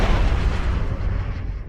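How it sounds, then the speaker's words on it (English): Cannon fire and an explosion in the DCS combat flight game as a shot blows the wing off an Su-30: a loud, dense, roaring burst that slowly fades and thins out over the following second. "I finally get a good shot and blow his wing off"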